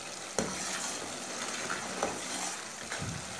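Sugar syrup for makhandi halwa is stirred in a pan, a soft continuous scraping and sizzle with a few sharper spoon knocks against the metal, close and fairly quiet.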